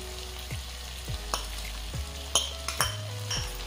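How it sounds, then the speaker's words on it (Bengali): A spoon stirs onion greens curry in a hot pan, giving a continuous close sizzle with repeated scraping strokes and a few light metallic clinks against the pan, no voices. "তারপর একটু নেড়েচেড়ে দিচ্ছি।"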